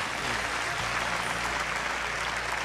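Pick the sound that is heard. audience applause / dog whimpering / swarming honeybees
audience applause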